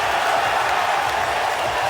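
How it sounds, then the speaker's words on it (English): A large arena crowd at the 2025 NBA Draft roars after a pick is announced, a loud, sustained wash of cheering and applause that fills the whole clip. "That roar from the crowd is these fans knowing that Danny Wolf has waited hours tonight to hear his name called"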